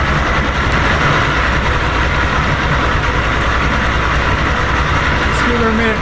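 A 1992 Johnson 60 hp outboard motor idling as it warms up, a loud, continuous, even engine drone held close to the listener throughout.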